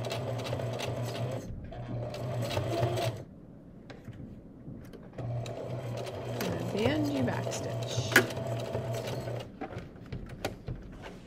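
Sewing machine stitching on a mouth piece with the needle down for each pivot, a steady mechanical whir in two runs separated by a short pause, with a brief knock near the end.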